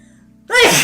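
A single sharp sneeze bursts out suddenly after a moment of quiet, close and loud, ending in a brief breathy tail.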